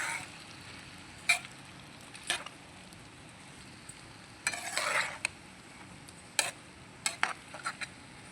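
A spoon stirs a village-style brinjal and tomato curry in a pan, with scattered scrapes and clinks against the metal, one longer sweeping stir, all over a quiet background sizzle.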